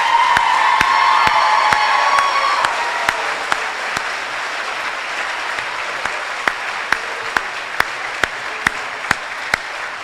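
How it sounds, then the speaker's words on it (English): Loud, dense applause and cheering from a large crowd at a high school graduation ceremony, sustained and even throughout, with occasional whoops at the start and sharp isolated claps standing out as it continues. "please join me in applause once again for these graduates and their achievement tonight"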